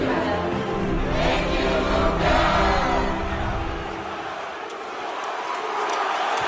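A crowd cheers for Luka, a Slovenian player in his seventh season: a broad, steady roar of many voices filling the space, swelling and then easing slightly before holding on.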